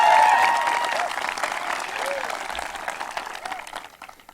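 Applause at a high school graduation ceremony, with a crowd clapping steadily in a large hall that slowly fades out, while a speaker's voice carries over it.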